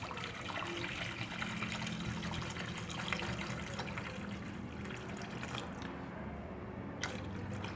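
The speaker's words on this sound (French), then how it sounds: "غادي نزيد هاد الماء السخون، غادي نزيدو على داك البوارو اللي شحرت." Boiling water poured onto leeks in a pot for fava bean soup, a steady close trickling and splashing stream that runs continuously and fairly quietly, with faint kitchen clatter near the end.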